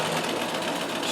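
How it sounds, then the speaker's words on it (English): A Riccar 570 stretch-stitch sewing machine with cams runs steadily, giving a continuous, close mechanical whir and rapid needle clatter. "Oh, it's sewing really nicely"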